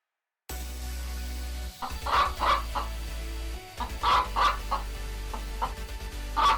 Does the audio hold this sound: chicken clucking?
yes